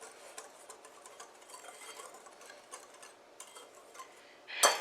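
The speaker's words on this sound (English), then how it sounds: "I'm going to take a whisk and just whisk this around a little bit and mix those dry ingredients" A whisk clicks and scrapes steadily against a bowl while mixing dry cake ingredients, with light, quick rhythmic ticks ending in a louder clatter at the close.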